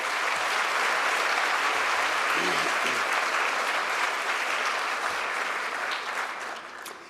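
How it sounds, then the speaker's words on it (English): Audience applause at a ribbon-cutting ceremony for a university tech campus in New York, a dense, steady wash of many hands clapping that holds strong for most of the stretch before tapering off at the end. "Let's give them a round of applause."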